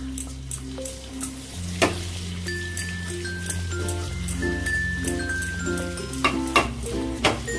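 Butter masala for a pomfret tawa fry is stirred over a high flame, a continuous close sizzle with spatula scrapes and occasional sharp clinks, while faint background music plays.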